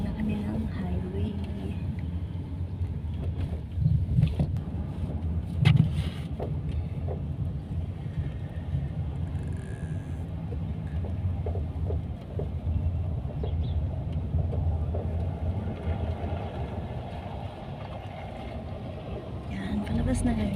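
Car pulling out of a residential area toward the highway on a morning ride in Kuwait, its engine and road noise a steady low rumble with wind buffeting, while people talk over it throughout.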